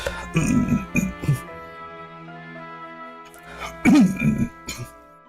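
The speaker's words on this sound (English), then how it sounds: "I might be clearing my throat for a little bit" A man clears his throat several times in short, rough bursts, close and moderately loud, with brief pauses between them and a small clink in the background.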